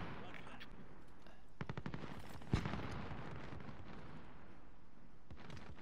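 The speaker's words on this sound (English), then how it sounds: "I hear gunfire." Sharp bursts of video game gunfire, a quick cluster of shots followed by one louder crack, over a steady background rumble.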